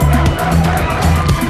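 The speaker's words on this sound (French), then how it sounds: "La foule met un peu de temps avant de réaliser et applaudir." Courtroom crowd at a special African tribunal reacting to a life-sentence verdict, a loud continuous murmur of voices with scattered clapping beginning to rise.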